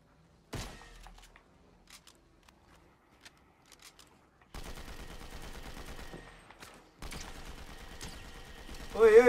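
Fortnite gunfire: a sharp shot at the start, scattered faint pops, then two longer stretches of rapid automatic fire, with a voice shouting near the end.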